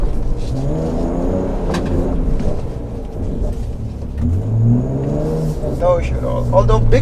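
A 2019 Nissan Patrol engine revving hard as it climbs sand dunes in the desert, a loud, rising and falling rumble under someone talking.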